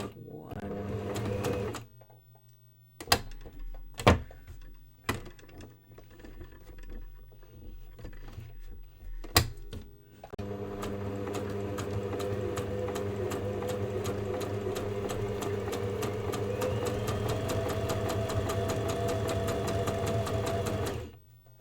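A sewing machine stitches forward, then in reverse, with a bobbin loaded in a lighter thread, first in short separate bursts with pauses and then in one long, steady, loud run of rapid stitching, with a voice heard faintly at moments.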